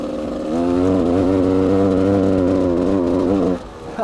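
A Gas Gas 300 enduro motorcycle that has not run for a year, on year-old fuel, with a valve that stays shut: its two-stroke engine revs up, holds a buzzy, slightly wavering note for about three seconds, then drops off sharply.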